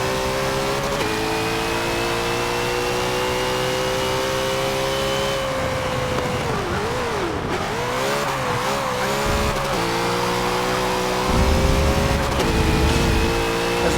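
Race car in Forza Motorsport 7 at full throttle, its engine a steady loud whine that dips and rises through gear changes and corners, with tire squeal and a brief skid near the end, no voice over it.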